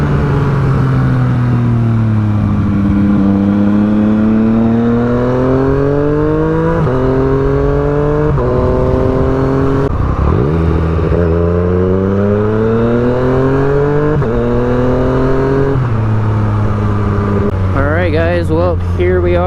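A Yamaha FZ-09 motorcycle engine drones loud and close while riding, rising through the gears with repeated upshifts and falling pitch, steady wind roar underneath and a brief rev near the end.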